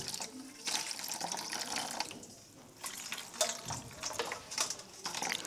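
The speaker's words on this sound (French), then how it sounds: "On prend notre bécher et on verse sur le crabe." Salt water poured from a beaker onto a rock crab, an irregular close splashing and trickling with drips, moderately quiet and unbroken by voices.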